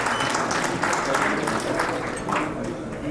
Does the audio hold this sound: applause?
yes